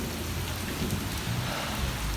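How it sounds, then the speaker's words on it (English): Hail pours down during an April storm, a dense, steady hiss and patter of stones and rain striking surfaces close by, with no voices. "It's April and it's hailing out."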